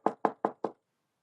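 Four firm knocks on a door in a steady, even rhythm, close and crisp, followed by silence.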